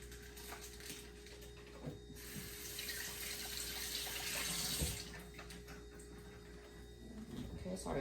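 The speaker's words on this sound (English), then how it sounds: "I'm going to just rinse this meat real quick." Tap water runs steadily into a sink while meat is rinsed under it, the flow swelling and easing with the handling, fairly quiet and close, with brief rustles and a faint voice in the background.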